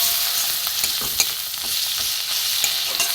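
Ground spices with chilli powder, cumin and coriander frying in oil for pumpkin kofta curry, a loud steady sizzle with scattered spatula scrapes and stirring clicks.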